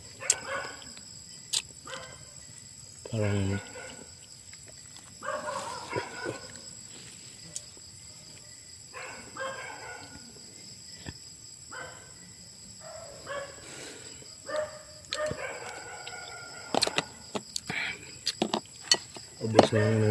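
Dogs bark at night in short scattered bursts, some close and loud and others farther off, over a steady chorus of crickets and insects, with someone talking at intervals.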